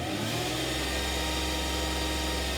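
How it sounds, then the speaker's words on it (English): A car engine with sequential multi-port fuel injection hums steadily at raised RPM, close and continuous, with a dense mechanical whir and no voices. "we're going to increase the engine RPM so that way you guys can see how it affects the sound wave."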